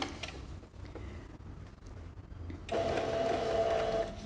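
Sewing machine stitching a seam on a small fabric organizer bag, running in a short steady whirring burst near the end after quieter handling noise.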